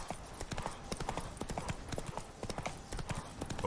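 Horse hooves clip-clop steadily at a quick pace in The Witcher 3, the rhythmic knocks close and continuous throughout with no voices over them.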